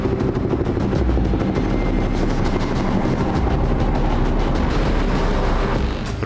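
An Indian Navy MH-60R Romeo anti-submarine attack helicopter sounds as a loud, steady rotor and turbine roar with a dense low-end throb that holds constant throughout, with no talking.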